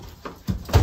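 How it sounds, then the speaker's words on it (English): Door of a 1953 La Cabana vintage travel trailer opening, a brief close rattle and clunk of the old door, loud and alone. "So let's see if this is the original door."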